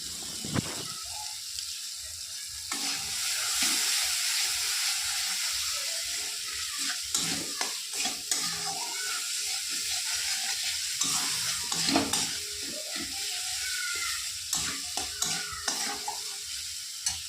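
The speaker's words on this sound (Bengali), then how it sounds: "আবারও ভালোভাবে কষিয়ে নেব মশলাটা।" Spice paste for rohu fish kalia fries in oil while being stirred, giving a steady close sizzle broken by repeated scraping strokes of the spoon against the pan, with no talking.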